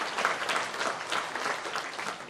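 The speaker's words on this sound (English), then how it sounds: "so a little applause for that." An audience at a hall of fame ceremony claps in steady, moderately loud applause that holds evenly throughout, with no voices standing out.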